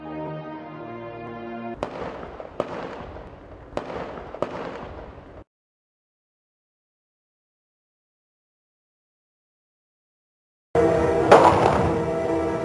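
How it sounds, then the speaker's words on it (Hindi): Bursts of gunfire in a tense Karachi street, several sharp cracks in quick succession over a steady background, then near silence, then a dense loud stretch of noise. "अब सिर्फ सन्नाटा है या फिर फायरिंग की आवाजें।"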